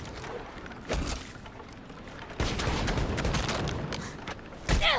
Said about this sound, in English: Let me use the Tog weapon.